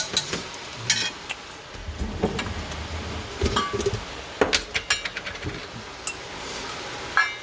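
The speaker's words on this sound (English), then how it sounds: "So this one, I just stir a little bit" Crispy pan-fried noodles with vegetables stirred in a pan, with scraping clatters and light sizzle repeating irregularly over a low frying hiss, close and fairly quiet.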